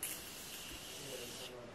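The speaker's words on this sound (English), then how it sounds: "So I'm just going to do a light mist over my face." Morphe Continuous Setting Spray mists over a face in one close, soft, continuous hiss lasting about a second and a half before cutting off.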